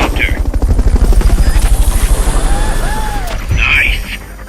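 Loud helicopter rotor thumping in fast, regular pulses close by in the video game Metal Gear Solid: Peace Walker, with a couple of brief electronic chirps and bursts layered over it.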